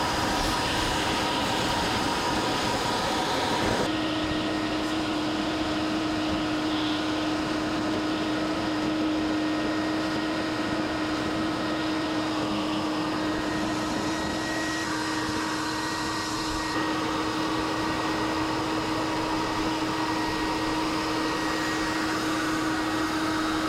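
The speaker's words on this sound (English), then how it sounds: "I guess now it's time to get the vacuum out." A vacuum cleaner runs continuously while cleaning out an old Fox Body Mustang that sat in trees for 31 years, a loud steady whine and whoosh that shifts in tone as the nozzle moves.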